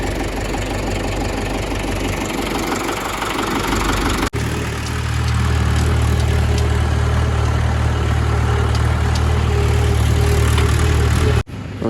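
A Tata 1512 diesel truck engine starts and settles into a loud, heavy, knocking idle with a deep rumble that holds steady for several seconds before cutting briefly at the end.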